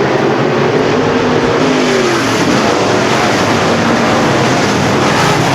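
Race cars accelerating hard on a dirt oval after a restart, a loud continuous engine roar with rising and falling revving tones as they charge out of the turn, close and saturated.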